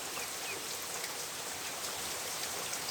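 Dense, even patter of heavy rain drumming on a hard rooftop, constant and close with no voices.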